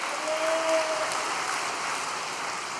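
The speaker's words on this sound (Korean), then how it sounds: "우리 격려의 박수, 사랑의 박수 한번 보내주시기를 바랍니다" An audience at a night prayer gathering gives encouraging applause, a dense, steady wash of clapping that holds evenly throughout without voices.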